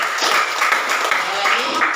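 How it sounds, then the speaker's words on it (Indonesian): Schoolchildren in a classroom clapping hands briefly, a quick crowded patter of claps lasting a couple of seconds, with voices faintly mixed in. "Benar. Tepuk tangan dulu."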